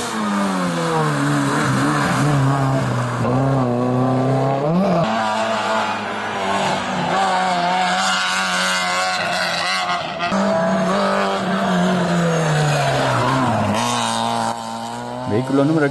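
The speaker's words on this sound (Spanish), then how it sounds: "Vehículo 14 de Carlos Socorro Morales con el Honda Civic." Honda Civic race car charging up the Fataga hill climb in 2013, its engine loud and close, revving hard and climbing in pitch, with gear changes dropping the note before it screams upward again for the whole stretch.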